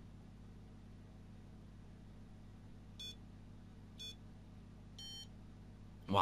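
Three short electronic beeps spaced about a second apart, each slightly longer than the last, over a low steady hum, fairly quiet.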